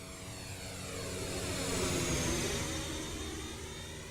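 Simulated MD80 jet engines in the X-Plane 12 flight simulator roar in a steady climb, a broad whine with sweeping tonal bands that swells in the middle and eases off, heard with no talking.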